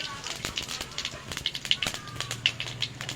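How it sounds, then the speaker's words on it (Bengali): Cumin seeds crackle and sizzle in hot oil in a karahi while veg dal is being made, with a dense, close spattering and scattered sharp pops throughout. "তেলটা গরম হয়ে গেছে, আমি কটা জিরে ফোড়ন দিয়ে দেব।"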